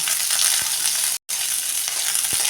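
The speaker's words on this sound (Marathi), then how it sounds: "ह्या मिरच्या टाकून घेऊया मिरची पण आपण आता ही एक एकसारखी परतून घेऊया" Green chillies and garlic saute in a pan for a village-style chilli kharda, giving a loud, close, continuous sizzle with a brief break midway and a few soft stirring knocks.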